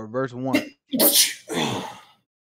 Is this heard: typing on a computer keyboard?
no